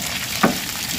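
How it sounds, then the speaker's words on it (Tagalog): Vegetables and cherry tomatoes sautéing in a pan give a steady, close sizzle, broken by one brief stir or clack, with no talk. "Sama na rin po natin yung ating mga cherry tomato. Bilisang gisa lang."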